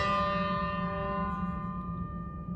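A large bell, partly damped with cloth, keeps ringing with a clear sustained tone that slowly fades, heard alone and close.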